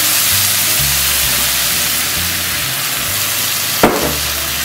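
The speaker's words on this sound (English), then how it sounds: "I'm going to add the ginger syrup that I made." Ginger syrup poured into hot pepper chicken frying in a pan produces a steady loud sizzle and hiss, with low clatter from stirring and a single sharp knock near the end.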